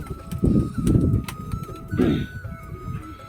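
Pigeons kept in a home loft, just released after heavy rain, flapping up and cooing: bursts of wingbeats and soft coos come close and fairly loud, repeating in short clusters.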